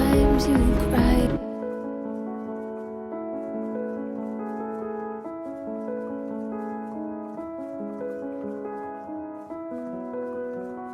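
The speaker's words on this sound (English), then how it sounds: "you can really hear how rolled off that piano sound is" A brief burst of dense sound gives way to a rolled-off neoclassical piano playing soft sustained chords and a gentle melody with a dull, muffled top, built-in mechanical key noises faintly underneath.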